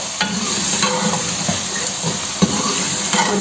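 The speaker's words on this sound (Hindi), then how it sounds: "चिकन कौरमा मसाला है थोड़ी देर इसको भी भूनना है हमने।" Chicken korma masala sizzles and fries steadily in a pan, a loud continuous hiss broken by a few scraping stirs of a spoon, with no voices.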